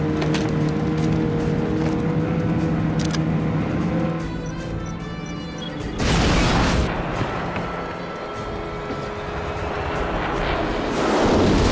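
A helicopter in the James Bond Blood Stone video game roars close by with a heavy rotor and engine drone, swelling louder mid-way and again at the end amid game action noise.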